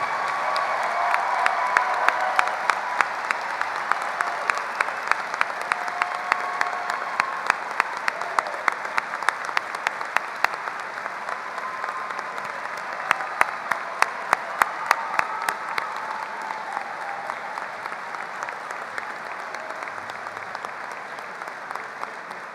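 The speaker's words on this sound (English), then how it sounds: "with a round of applause" A high school commencement audience stands and gives a long, steady round of applause honoring students entering military service, with sharper individual claps popping out of the sustained clatter.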